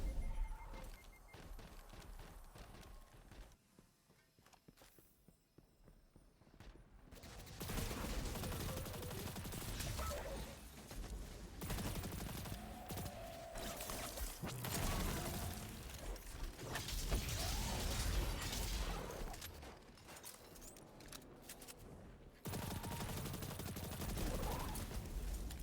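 Gunfire in Destiny 2, anti-barrier rounds fired at a shielded enemy in a Master Lost Sector, comes in dense, sustained bursts with brief pauses, fairly loud and steady.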